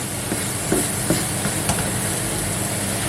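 Apples with sugar cooking gently in a frying pan give a steady, soft sizzling hiss throughout, with a few faint clicks and no talking.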